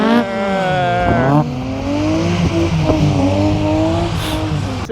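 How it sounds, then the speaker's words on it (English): Drift cars at Oulton Park racetrack during a tuner car show, engines revving hard and rising in pitch with loud sustained roar and shifting tones, close and without speech. "Shall I go see some drifting? Let's go see some drifting."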